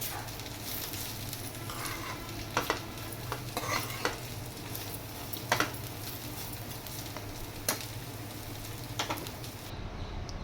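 Ivy gourd (dondakaya) fry sizzling steadily in a pan, a continuous close crackle with a few sharper stirring clicks scattered through, no talking.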